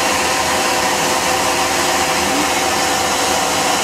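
KSI SQC-38 CNC Swiss lathe spindle spinning up toward 3000 RPM, heard from about six inches away: a steady, loud broadband whir with a continuous high whine, unbroken for the whole stretch and with no talking.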